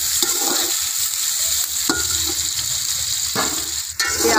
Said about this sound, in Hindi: घी गर्म हो गया है और मैं प्याज पा लेती हूँ।